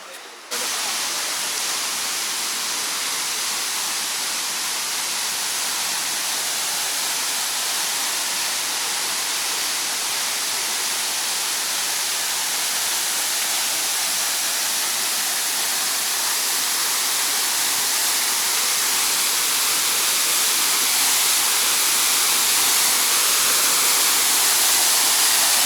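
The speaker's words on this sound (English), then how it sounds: "This is the other side of the waterfall." A waterfall on Bali or Lombok in Indonesia, heard as a steady, loud, broadband rush of falling water that fills the whole stretch without pause.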